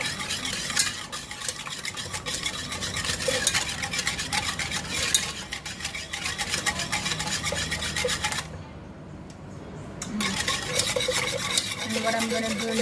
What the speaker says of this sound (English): Whisk nicely, we're gonna whisk it nicely.